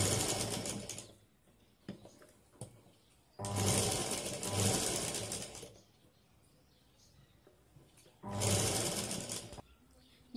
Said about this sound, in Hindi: और इसके ऊपर स्टिच करनी है।